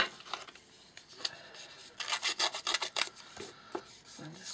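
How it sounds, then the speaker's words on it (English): A distressing tool is worked over the wooden surface of a trinket box with close, quiet rasping and scraping strokes. The strokes come in uneven bursts and grow into a quick run of firmer rubs partway through. "So I'm just going to go over this with my distressing tool."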